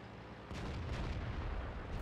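A tank cannon fires in World of Tanks, one sharp heavy boom at the half-second mark followed by a rumbling tail and a second fainter report near the end, with no talking.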